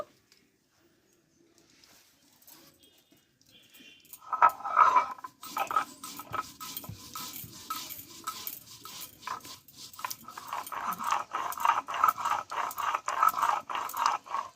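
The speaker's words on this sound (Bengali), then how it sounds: "পোস্তটাকে আমি আগে বেটে নেব" Poppy seeds are ground into a paste for a spiced potato and cauliflower curry. A quiet start gives way to steady, rhythmic scraping and grinding that grows louder and denser toward the end.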